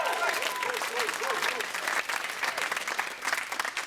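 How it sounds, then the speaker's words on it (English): A Red Dwarf studio audience bursts into loud, sustained applause and cheering as a character, Ace, is first revealed on set, a dense roar of clapping with whooping voices mixed in throughout. "the audience went a little too nuts the first time"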